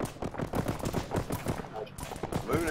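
Rapid bursts of gunfire in the Arma 3 military shooter on the Tanoa map, sharp repeated shots spread across the moment, close and loud with a voice talking over them.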